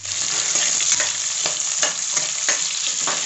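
Sliced white onions and garlic hiss and crackle loudly in hot oil in a pan, a dense continuous sizzle broken by regular scraping strokes as they are stirred.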